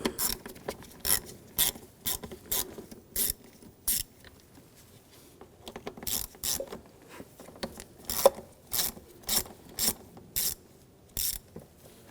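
A ratchet with a T25 socket clicks in quick repeated bursts while backing out screws on the high-pressure fuel pump of a 2007–2013 BMW X5 3.0L inline-six, crisp and close with brief pauses.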